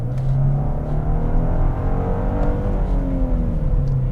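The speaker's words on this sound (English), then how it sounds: "So, great acceleration in the car, great sound as well." A 2021 Genesis G80 with a twin-turbo 3.5-liter V6 accelerates hard, its engine note rising steadily in a loud, smooth, continuous surge with no talking over it.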